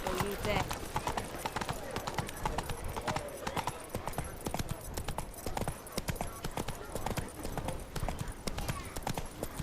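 In a video game, a horse gallops steadily with a continuous rhythmic drumming of hooves, loud and close, with a speaking voice over it.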